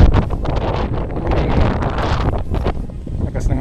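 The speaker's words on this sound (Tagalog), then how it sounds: "lakas ng hangin." Strong wind buffets the microphone in a steady loud roar at an outdoor viewpoint, gusting throughout with rustling underneath.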